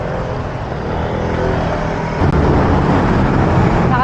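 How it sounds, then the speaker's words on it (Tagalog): Fast road traffic rushing past a cyclist on a busy road, a loud continuous engine drone with a sharper close whoosh partway through. "Medyo maingay lang dito kasi mabibilis yung sasakyan."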